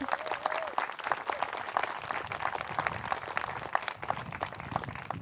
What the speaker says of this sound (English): So big round of applause for you all